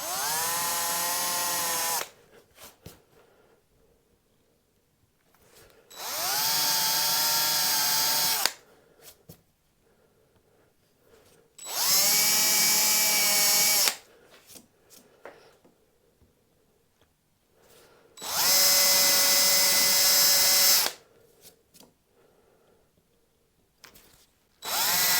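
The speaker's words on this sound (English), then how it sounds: "gently drilling down so you're just a little bit short of the thickness of the inlay" A power drill whines at high speed in four long bursts, routing inlay recesses into a Telecaster guitar fretboard, with short quiet gaps between them and faint handling noises in the pauses.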